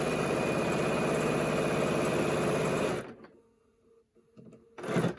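A sewing machine runs a fast, steady stitch along a pleated fabric mask seam for about three seconds, stops, then gives a short closing burst.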